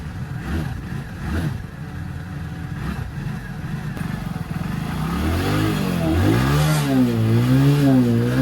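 A Hero motorcycle engine is kicked over, with a few uneven low thumps and sputters early on, then it catches into a rising, wavering rev that grows louder and steadier near the end.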